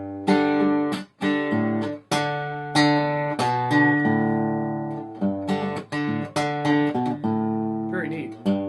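Electric guitar playing measure 90 of a live song, a single A5 then an open D, in a clear solo passage of plucked notes and short chords with brief gaps between phrases.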